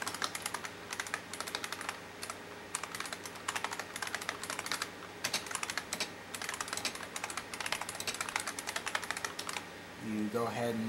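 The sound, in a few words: typing on a computer keyboard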